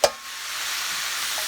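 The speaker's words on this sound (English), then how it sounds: "Here's it sizzling" Food for a homemade spaghetti sauce, with mushrooms among the ingredients, sizzles in a hot pan, giving a steady bright hiss after a brief clink at the start, close and continuous with no talking.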